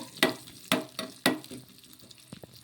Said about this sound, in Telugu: నూనె వేడెక్కిన తర్వాత ఇందులోకి 1 స్పూన్ అంత జీలకర్ర, 10 వెల్లుల్లి రెబ్బలు అయితే వేసుకోవాలి